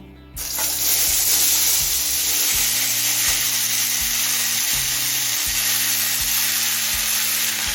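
Chopped tomato dropped into hot oil where dry red chillies have just been fried red for a Bengali chutney, setting off a loud sudden sizzle that stays steady and close, with scraping stirs of the pan, no voices.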